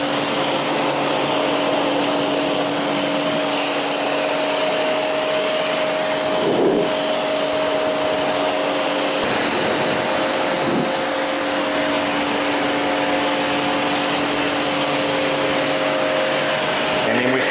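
Pressure-washer rinse of a car ahead of a decontamination wash, a steady loud machine hum with a hissing water spray running throughout, with no speech.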